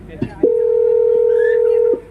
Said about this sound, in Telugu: రామయ్య, అయ్యారు చిన్నబాబు ఎక్కడ ఉన్నాడు ఒకసారి ఫోన్ చేయి.